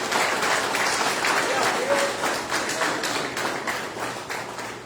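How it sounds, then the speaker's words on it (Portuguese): A church congregation claps together during a service, a sustained wash of applause with rhythmic pulses that gradually fades, with a voice briefly heard over it. "Aplaude o nome do Senhor."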